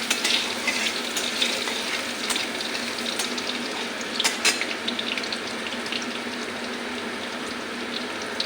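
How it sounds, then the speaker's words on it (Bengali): Crushed garlic dropped into hot oil, a loud bright sizzle with busy popping and spattering that stays dense and steady, close up with no one speaking. "তেলটা গরম হয়ে গেছে রসুন থেতু করে রেখেছি দিয়ে দেবো"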